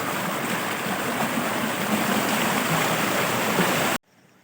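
Loud, steady rush of abundant water running across a mountain path near hillside rice paddies, continuous broadband flow that cuts off abruptly near the end, leaving faint quiet.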